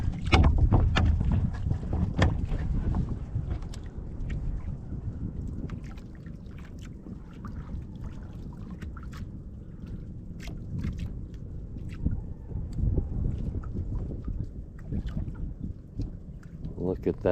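A baroto, a small paddled boat, out on the Philippine sea at sunrise, with rhythmic paddle strokes and water splashes under heavy wind noise and muffled rumble, continuing steadily throughout.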